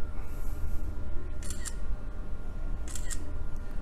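Two crisp iPhone camera shutter clicks in normal mode, about a second and a half apart, sharp and close over a low background hiss.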